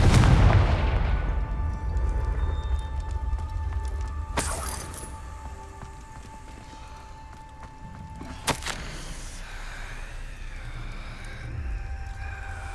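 A Confringo blasting spell bursts in the Hogwarts Legacy video game, a heavy boom at the start followed by sharp crackling blasts and a sustained rumbling roar with a second loud impact later.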